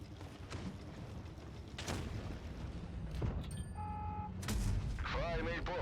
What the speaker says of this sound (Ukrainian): Файний постріл, дуже файний.